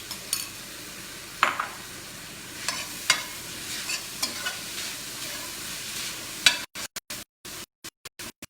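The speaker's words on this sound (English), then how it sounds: "now I'm adding the spinach" Spinach goes into a sizzling pan with paprika, a steady frying hiss broken by repeated sharp clinks and scrapes of a utensil against the pan, then the sound cuts in and out at the end.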